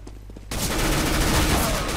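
Gunfire from the video game Counter-Strike bursts in after a short, quieter lead-in and continues as a loud, dense, sustained volley until the end.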